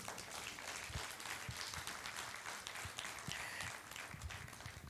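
An audience at an architecture exposition claps for the president, a faint, continuous patter of many hands spread through the room with no voices over it.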